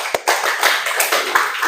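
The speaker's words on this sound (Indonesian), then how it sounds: "Oke, aplaus, tepuk tangan." A classroom of students breaks into brisk hand clapping for their group project work, a dense burst of close, fairly loud applause that carries steadily from start to finish.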